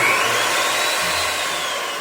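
Power drill driving a screw foundation into the ground, a steady loud whirring drone with no breaks, heard up close.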